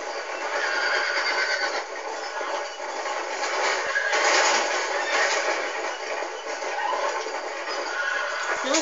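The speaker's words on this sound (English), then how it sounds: "Is that a skinny horse?" A horse in a video game neighs and whinnies repeatedly over a thin, band-limited game soundtrack, with faint hoof clops and a continuous rumbling background throughout.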